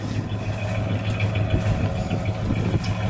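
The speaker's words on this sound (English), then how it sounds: "Let me listen to it idle for a second." 1968 AMC Rebel SST convertible with a 2-barrel carburetor and single exhaust, idling smoothly: a steady, low engine rumble close up that runs without a break for about three seconds, with no talking.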